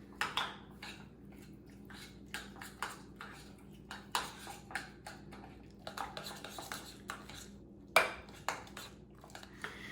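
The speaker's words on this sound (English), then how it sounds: "And then we're going to stir until that's all nice and incorporated." An egg being stirred into a batter mixture in a bowl, with a rapid series of light clinks and taps of a utensil against the bowl, close and fairly quiet, no speech.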